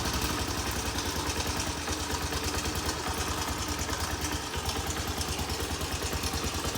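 Honda CT110 motorcycle engine idling steadily up close, a fast even low putter with light mechanical clatter running unbroken throughout, fairly quiet and with no voices.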